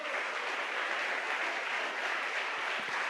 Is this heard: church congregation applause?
yes